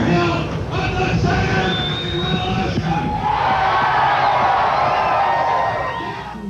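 A loud crowd cheers and shouts at a Ku Klux Klan rally outside a courthouse, a dense, continuous roar of voices with whoops rising and swelling throughout.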